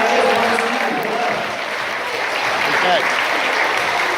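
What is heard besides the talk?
round of applause at sheep show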